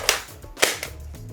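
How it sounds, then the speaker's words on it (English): A QBZ-95 shell-ejecting Nerf blaster set to safe and fired manually like a springer gives two sharp snapping shots about half a second apart, followed by a fainter click and light mechanical rattling. "If it's on safe, you can fire it manually like any Springer."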